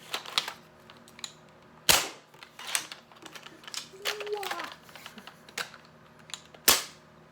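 Foam dart blaster firing, the SLAB, in a demo: several sharp, isolated snapping shots spaced a second or more apart, with light handling clicks and faint talk in between.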